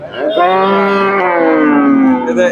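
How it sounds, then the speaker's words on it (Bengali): A Friesian cross dairy cow at a busy cattle market lets out one long, loud, close moo that slowly falls in pitch. "এখানে একটা দেখেন ফ্রিজিয়ান জাতের গাভি"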